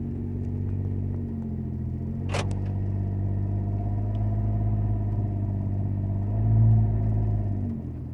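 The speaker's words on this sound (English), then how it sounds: "I'm going to drive down the street here" A deep, steady rumble from a Jeep JK's 3.6-liter V6 with the muffler removed drones throughout, with a brief sharp click partway through and a slight swell in loudness near the end, no voices.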